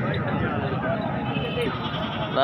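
Goats on a goat farm bleat amid a busy, crowded background with talking voices mixed in throughout.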